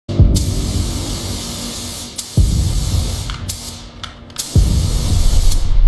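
Spray paint bursts from an aerosol can onto apples in three loud, close hissing blasts, each starting with a sharp puff and trailing off, with short pauses between them.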